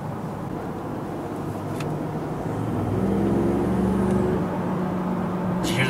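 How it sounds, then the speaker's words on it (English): A 2017 Ford F-150 Raptor's turbo spooling up as a steady engine whir, rising tonal whine building in the middle of the clip over continuous road and engine rumble from inside the cab. "Did you hear the turbo spool?"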